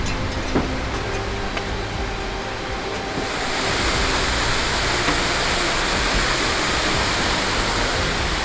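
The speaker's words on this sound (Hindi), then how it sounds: "पूरे रास्ते ऐसे छोटे छोटे वाटरफॉल मिलेंगे हमें" A small waterfall along the Kedarnath trek in Uttarakhand, heard as a steady, loud, close rush of falling water that fills the scene with continuous broadband noise, growing slightly fuller partway through, with no voices.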